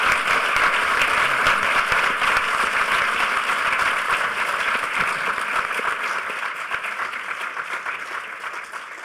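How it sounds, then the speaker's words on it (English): Dense, sustained audience applause fills a hall after a hackerspaces panel at a hacker conference, steady and loud at first, then thinning slightly toward the end. "Give a huge round of applause to our panelists."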